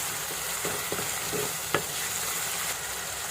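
Salt stirred into a fish gravy masala in a pan: a constant hissing simmer with several short spoon scrapes and one sharper knock near the middle, close and without speech.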